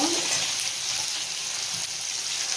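Tomatoes frying in a pan while cooking chicken masala, a steady, close sizzle that fills the whole stretch without a break.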